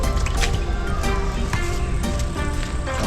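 Salted food being washed by hand in water: continuous close splashing, squishing and dripping with irregular sloshes throughout.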